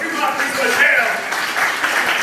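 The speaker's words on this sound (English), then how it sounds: "everybody give it a round of applause for Cody Goodfellow." Library event audience gives a short burst of applause for an author, a moderate wash of claps mixed with voices and chatter.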